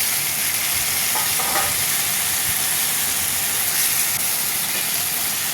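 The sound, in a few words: stems and potatoes added to frying onions, sizzling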